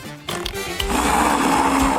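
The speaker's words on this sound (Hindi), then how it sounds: "ब्लेंडर में सब कुछ डालें और मिलाएं।" A kitchen blender whirs steadily as it mixes yogurt, sugar and greens for homemade ice cream, starting after a few soft clunks and running loud and continuous to the end.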